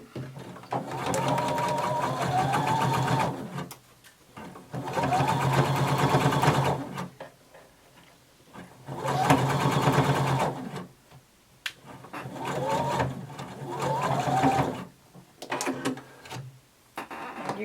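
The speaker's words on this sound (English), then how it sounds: "And now we're going to sew across the sides of our band" A sewing machine stitches across the sides of a fabric band in several bursts of a few seconds each, its rapid mechanical whir rising and stopping with short pauses between runs.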